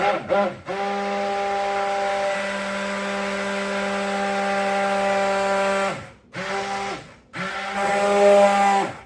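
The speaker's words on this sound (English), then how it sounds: "just take your immersion blender and just kind of burp it. It's going to be loud." An immersion blender mixing soap batter whirs loudly in a steady high-pitched drone, cuts out, then runs in two more short bursts close by.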